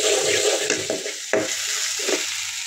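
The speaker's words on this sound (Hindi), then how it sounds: "तो 1/2 स्पून अदरक लहसुन और हरी मिर्ची इसी में पीस वाली, तो इसे भी हम भून लेंगे।" Ginger, garlic and green chilli paste sizzles steadily in hot oil in a kitchen pan, stirred with a few clear scraping knocks against the pan throughout, loud and close with no talking.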